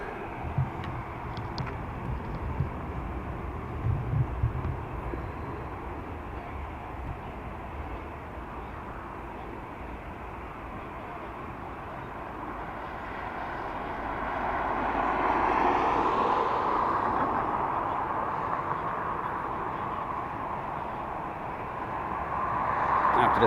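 A heavy airliner passes at Dublin Airport, a broad engine roar that holds steady, then swells louder and brighter toward the end as the aircraft draws nearer.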